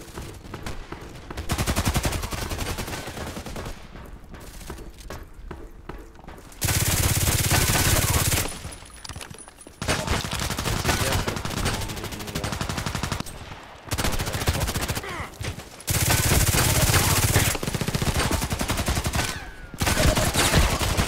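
Repeated loud bursts of gunfire in the shooter Contract Wars, fired in several separate strings with short pauses between them, close and dominant with almost no talk.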